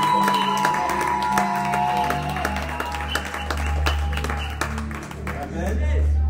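A church congregation at an ordination service applauds and cheers, steady dense clapping with voices mixed in, loud and sustained, with a speaking voice and music running underneath throughout.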